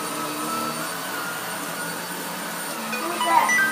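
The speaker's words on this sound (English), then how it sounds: "I'm recording Angelo vacuuming the floor." A Hoover Air 2 vacuum cleaner runs steadily on a floor, a continuous whining motor drone at moderate distance with a faint whistling pitch shift near the end.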